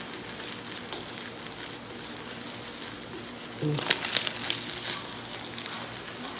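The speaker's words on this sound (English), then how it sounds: "we want to get a nice crispy egg" Eggs fry in a hot pan for shrimp fried rice, a steady close sizzle that grows louder and crackly midway as the eggs are stirred or moved, then settles back.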